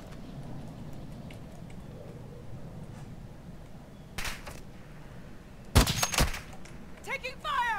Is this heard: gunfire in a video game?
yes